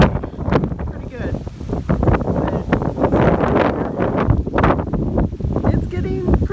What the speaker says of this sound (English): The wind's pretty good.